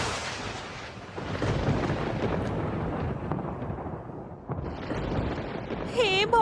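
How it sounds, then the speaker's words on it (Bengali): A loud thunderclap strikes palm trees as a dramatic story effect, a heavy, continuous rolling rumble that fills the whole stretch and ends with a brief, sharper burst. "বাজ পড়ে"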